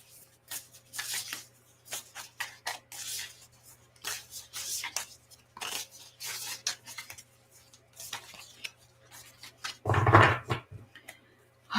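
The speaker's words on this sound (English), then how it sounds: "give these cards a shuffle." Tarot cards being shuffled by hand: repeated soft papery riffles and slides in bursts, close and moderate, with a brief louder knock near the end and no clear talk over it.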